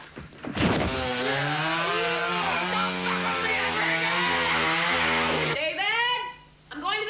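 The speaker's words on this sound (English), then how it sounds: "I got a fucking chainsaw!" A chainsaw engine roars loud and steady for several seconds, briefly cut off, then revs again with shouting voices over it.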